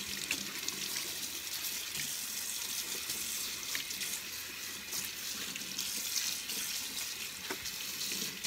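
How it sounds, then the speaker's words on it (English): Cold tap water runs steadily into a sink while dyed fabric is rinsed under it, a continuous close splashing rush with faint sloshing and no talking. "Once we rinse this under the cold water, it's going to take a lot of this dye out"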